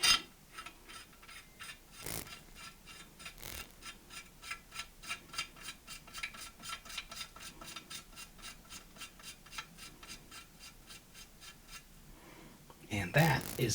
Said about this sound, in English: Screw that into the barrel of the gun.